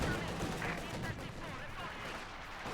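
A Company of Heroes 2 match between Soviet and OKW armies, with dense, continuous battle noise of gunfire and explosions, trees shattering, walls breaking and carts crushed, heard loud and close.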